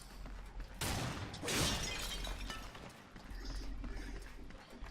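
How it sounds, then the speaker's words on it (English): Clay pots shatter in the video game Darksiders 2, two quick crashes of breaking pottery close together over a low ambient game background, with a faint cooing sound alongside. "Smashing all the pots."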